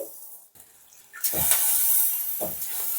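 One and a half bowls of water are poured into a pot of sugar to make syrup for jalebi, a close, steady splashing pour after a few light knocks.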